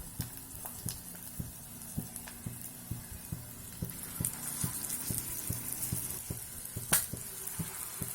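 Snack pieces frying in medium-hot oil in a pan, a steady soft sizzle with faint bubbling and irregular light pops throughout, fairly quiet.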